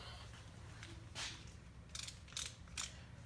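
A ratchet clicks faintly in a few short bursts while a bolt is tightened during a rear window motor replacement on a 2005 Lincoln Aviator, over a low steady background hum.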